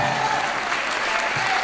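Steady applause from an audience at a Hindi kavi sammelan poetry recital, a dense, even patter of many clapping hands continuing throughout at moderate volume.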